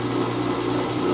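Knives are ground on a 120-grit grinder belt at a knife workshop, producing a loud, steady whirring grind that holds constant throughout the short stretch.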